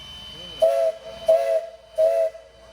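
Three short, clear steam train whistle blasts sound at a steady spacing, each sharp and tonal with a hiss around it, over a quiet background, at the Pioneer Coal Mine.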